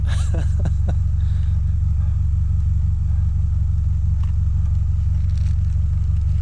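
A car engine idles close by, its exhaust giving off a loud, steady low rumble that holds even throughout, with a few faint clicks and knocks at the start.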